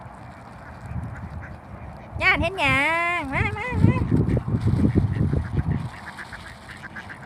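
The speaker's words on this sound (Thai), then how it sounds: "เป็ดเทศอันดำตัวหนึ่งแล้วก็เป็ดขาวตัวหนึ่งค่ะ" Black and white Muscovy ducks call out in a brief burst of honking close by, a rising, wavering run of cries followed by lower chattering, with someone talking over them throughout.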